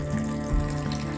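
Water pours steadily from a tap as red amaranth greens are washed in a kitchen sink, a brief, even, close rush of flowing water.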